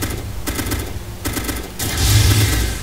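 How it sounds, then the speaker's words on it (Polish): Rapid bursts of automatic gunfire in the game Arma 2, loud and dense, with rattling shots continuing throughout and growing heavier toward the end. "Strzały. Ostro strzelam."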